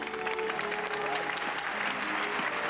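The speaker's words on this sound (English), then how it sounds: "Big round of applause for Nicole" An audience at a magic show applauds a volunteer on stage, steady dense clapping with some crowd noise throughout.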